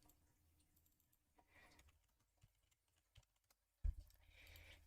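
Quiet clacking of typing on a computer keyboard, scattered soft keystrokes with pauses, then a sharp louder knock followed by busier tapping near the end.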